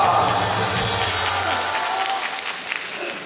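A rally crowd at a national assembly for free unification in Incheon gives big applause, a dense burst of clapping that thins out over a few seconds, with some low tones early on.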